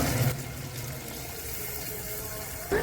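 Chickpea cooking water is poured into a vegetable chalna in a pot, making a steady splashing pour that runs for a few seconds without interruption. Nobody speaks over it.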